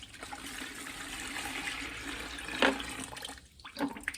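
Water poured into the tank of a Bissell Revolution vacuum, a steady close splashing rush with a brief louder gush partway through.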